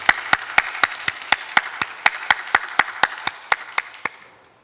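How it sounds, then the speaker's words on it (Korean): Rhythmic unison clapping by a young adult worship congregation in a Korean church service, about eighteen evenly spaced claps over a steady wash of applause, with no talking. "우리 하나님께 영광의 박수 올려드립니다"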